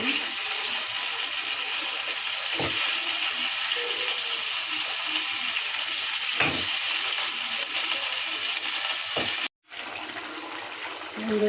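Spice paste sautés in a pan with a steady bright sizzle, marked by two sharp utensil knocks and a brief drop to silence near the end before the frying noise resumes.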